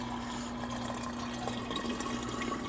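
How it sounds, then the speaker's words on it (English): Tap water pours from a kettle into a glass jar on a back porch, a close, continuous splashing trickle with a faint steady ringing tone underneath. "I'm going to take this jar and pour some water in here."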